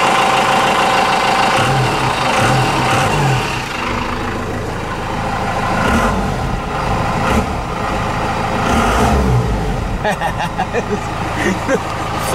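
A 4BT Cummins diesel engine runs just after starting, a loud close rumbling idle with a knocking clatter that continues throughout the clip.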